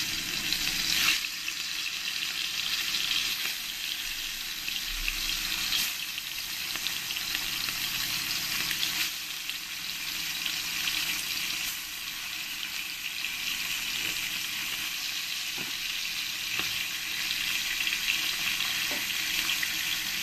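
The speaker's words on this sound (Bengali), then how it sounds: "তেলটা আমার গরম হয়ে গেছে। এবার আমি এক এক করে মাছগুলোকে আমি ফ্রাই করে নেব।" Fish frying one by one in hot mustard oil, a continuous loud sizzle and crackle with occasional bursts and stirring clatter, no voices.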